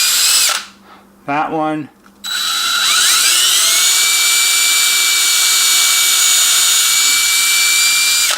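Power drill boring holes for a surface-mounted 3.5mm audio jack on a NuTone SM428 master station, a loud sustained whine that runs steadily for several seconds after a brief spoken word and short bursts.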